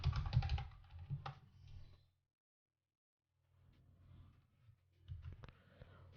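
Bursts of typing on a computer keyboard, quick close clicks in two clusters separated by a couple of seconds of silence.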